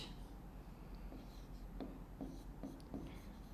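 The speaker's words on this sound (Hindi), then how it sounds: "अब मैं नाम लिख रही हूँ, आप अपने आप लिखते चलो" Marker or chalk writing names on a classroom board during a chemistry lesson, a faint series of short strokes and taps at an uneven pace, with no talk.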